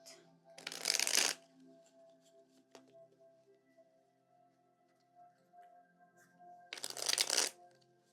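A tarot card deck is shuffled in two brisk riffling bursts, one near the start and one near the end, close and crisp against a quiet room.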